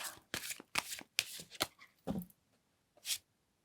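Tarot cards being shuffled and drawn, several quick riffling bursts in an uneven rhythm, followed by a short pause and one final crisp card snap, close and clear with no talking.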